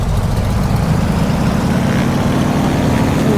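Waco biplane radial engine at full throttle in Microsoft Flight Simulator 2020, a loud steady low droning roar holding constant throughout without pause.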